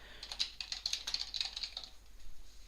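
Rapid, close computer keyboard typing in a quiet room, a short burst of quick light key clicks entering a page name, then a brief pause.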